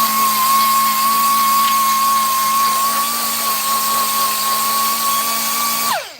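Abrasive grinding of a metal plate base on a custom e-bike hub, a loud, steady high-pitched tonal whine from a spinning tool that holds constant before cutting off abruptly near the end.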